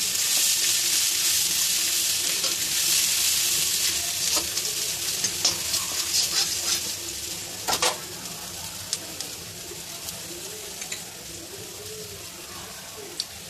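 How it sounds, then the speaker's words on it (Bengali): Grated ginger fries in hot oil in a pan while cooking a vegetarian doi begun (yogurt eggplant) dish, giving a loud, continuous sizzle that eases slightly over time, with scattered clicks and scrapes from stirring. "না হলে আদা বাটা দিলে তো ছিটকে তেলটা গায়ে আসবে, সেই জন্য এবার আমি দিয়ে দেবো আদা।"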